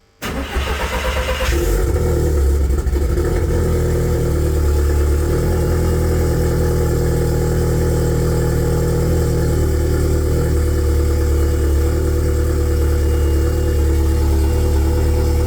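A car engine cranks briefly and catches after its injectors are reinstalled, then settles into a loud, steady, close idle that runs on alone.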